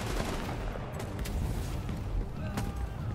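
Dense gunfire from the video game The Division 2 sounds as rapid overlapping shots and a steady roar of automatic fire, loud and continuous throughout.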